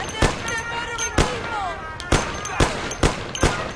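Gunshots in the video game Mafia 1: about eight loud, sharp cracks at irregular intervals, some close together, over faint background game sound and music-like tones.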